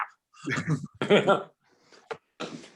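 A dog in someone's lap at a city council meeting gives a few short whimpers and yips in separate bursts. The sounds are close and fairly faint, with voices talking nearby.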